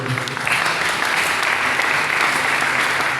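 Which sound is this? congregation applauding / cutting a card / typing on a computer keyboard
congregation applauding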